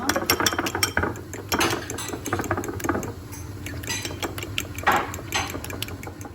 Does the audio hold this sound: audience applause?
no